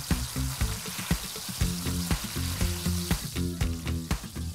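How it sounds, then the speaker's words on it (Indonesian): Beef oxtail stir-fried with spice paste in a pan for tengkleng, a loud steady sizzle broken by repeated clacks and scrapes of a spatula stirring, with no voices. "Sekarang kita masukkan daging buntut sapinya ke dalam. Lalu kita tumis bersama bumbu-bumbunya biar meresap ke dalam."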